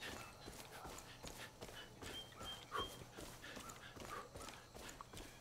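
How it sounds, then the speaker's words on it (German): A dog barks repeatedly in the Far Cry 5 video game, faint and distant beneath a busy wash of game ambience with scattered clattering steps, the sharp yaps spaced irregularly across several seconds. "bellt schon seit Stunden ein Hund"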